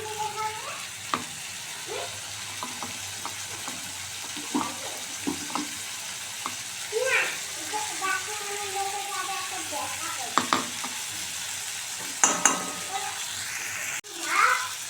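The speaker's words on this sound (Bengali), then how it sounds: "আদা, জিরে, কাঁচা লঙ্কা বাটাটা দিয়ে দেবো" Ginger, cumin and green chili paste fries in a pan for a cabbage ghonto with hilsa fish head, giving a steady sizzle under scattered clinks and scrapes of stirring, with a faint voice now and then.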